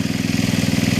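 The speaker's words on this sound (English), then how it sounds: "What I'm using here is a Ryobi 3100 PSI blower or power sprayer here." A Ryobi 3100 PSI gas pressure washer runs close by with a loud, steady, throbbing engine drone at an even pulse.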